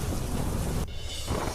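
Heavy rain pours in Mandi, Himachal Pradesh, loud and dense with thunder rumbling underneath. The roar drops off sharply for a moment, then the downpour swells back in.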